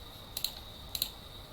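Computer keyboard keys clicking in two short, quiet bursts of a few taps each, separated by a pause, over a steady faint background hum.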